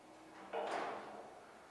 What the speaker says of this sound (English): Push that door all the way home in a second,